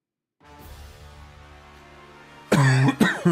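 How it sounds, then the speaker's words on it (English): Two loud, sharp coughs burst out near the end after a stretch of low room hum, close to the listener. "Let's just start coughing all of a sudden."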